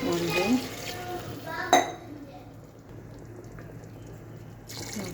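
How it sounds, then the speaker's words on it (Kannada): Water is tipped from a glass into a cooking pot for vegetable pulao rice: a few clinks of metal and glass, then a short splash and pour that fades into quiet kitchen background. "ಈ ರೈಸ್ಗೆ ನಾನು 1 ಗ್ಲಾಸ್ಗೆ 2 ಗ್ಲಾಸ್ ನೀರು ಹಾಕ್ತೀನಿ"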